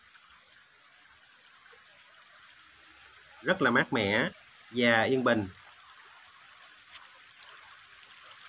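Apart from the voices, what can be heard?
gently babbling stream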